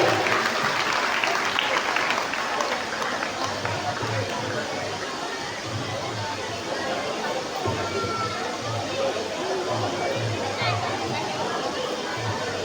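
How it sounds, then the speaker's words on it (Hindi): A seated crowd gives sustained, steady applause to welcome a guest at a gathering. The clapping is dense and even throughout, with a light murmur of chatter underneath. "सभी जोरदार तालियों से उनका स्वागत"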